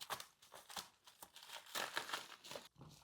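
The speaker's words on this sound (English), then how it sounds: "There's already a hole right here, so I'm just gonna cut right here." A sealed plastic package holding chargers and cables is cut open, giving bursts of close crinkling and tearing plastic in irregular pulses, fairly quiet, with a brief pause near the end.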